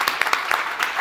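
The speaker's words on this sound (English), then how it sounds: "Now you can applaud." Audience clapping at a 10th anniversary gala, a steady patter of many hands that holds even for the whole moment, with no voices over it.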